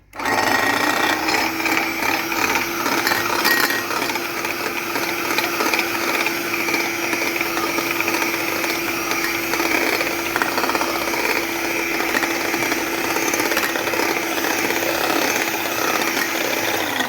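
Electric mixer beating chocolate cake batter as oil is poured in, a loud steady motor whir with a constant hum that runs continuously without pause, and no talking.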